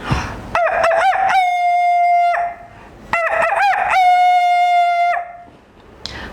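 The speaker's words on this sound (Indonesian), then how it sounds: "terdengar suara kokok ayam jantan." A rooster crows loudly and close by, two full cock-a-doodle-doo calls separated by a short pause.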